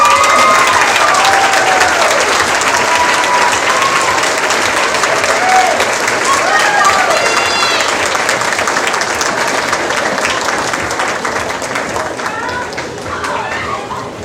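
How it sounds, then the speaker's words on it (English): A fair crowd applauds steadily for the newly crowned 2026 Lebanon Area Fair Queen and her royalty court, dense sustained clapping with a few cheers, fading slightly toward the end. "Give all of our Fair Royalty Court a round of applause."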